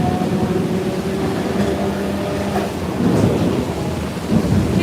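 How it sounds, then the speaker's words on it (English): Heavy rain pours down in a steady, loud wash with thunder rumbling low throughout, swelling louder near the end, and no voices. "This rain is not letting up."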